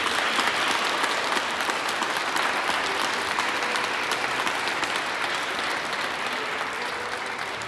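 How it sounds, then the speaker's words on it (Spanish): A congregation at a wedding mass applauds the married couples, steady full clapping that fills the church and tapers slightly toward the end. "Aplausos a estos matrimonios."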